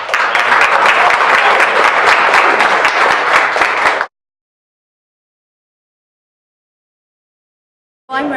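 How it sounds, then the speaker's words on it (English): Loud, dense applause from the audience at a county candidate forum, greeting the county commissioner candidates, runs steadily for about four seconds and cuts off into silence, with a brief burst returning at the very end. "A round of applause again for them."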